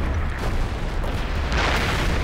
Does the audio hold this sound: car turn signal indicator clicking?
no